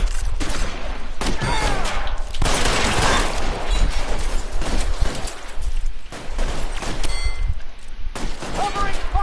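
Heavy gunfire in the video game L.A. Noire, a loud, dense shootout of overlapping rapid shots in bursts, with short shouts breaking through at moments.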